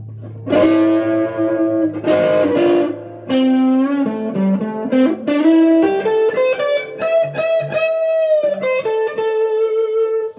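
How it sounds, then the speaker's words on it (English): A sustained electric guitar solo on the neck pickup with a warm, rounded tone, singing bends and held notes played loud and continuous, with some effects coloring the sound. "switch all the way up into this neck pickup here. And then crank it for the solo."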